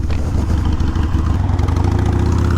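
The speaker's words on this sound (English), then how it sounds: "There's a noticeable difference riding this bike now with the 1250 kit in it." Harley-Davidson Iron 883 motorcycle engine with a 1250 Hammer big-bore kit, running during break-in riding, a steady loud low rumble with a continuous throbbing pulse.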